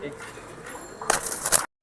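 Giribaj pigeons at a bird sale give soft, brief cooing calls amid background chatter and people talking nearby.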